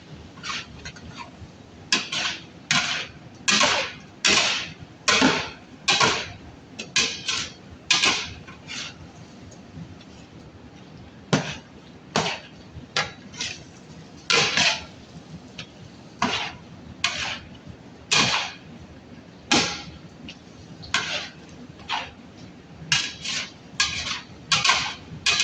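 Turmeric and coriander powder are stirred into beef in a pan for a beef fry. A spoon scrapes and clatters in steady, repeated strokes for about twenty-five seconds, close up, with no talking.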